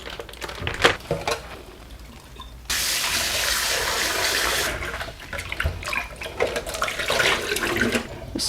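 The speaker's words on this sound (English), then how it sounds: "Let's wash the chicken." Running tap water splashes steadily into a sink while raw chicken is washed, louder in the middle stretch, with intermittent rinsing and handling sounds around it.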